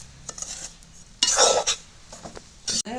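Flour being dry-roasted in a pan and stirred constantly, giving scraping, clinking utensil strokes against the metal, with a louder burst of scraping midway and short clatters near the end.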